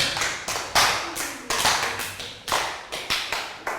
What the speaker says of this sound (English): Round of applause for Ned.